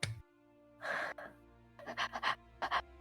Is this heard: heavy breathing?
yes